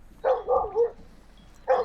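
A dog barks three times, a quick double bark followed by a single bark after a short pause, fairly close and clear with only faint background noise and no talking.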